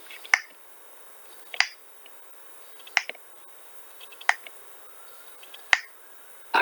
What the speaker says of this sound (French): Ah, est-ce que c'est des claquements de doigts?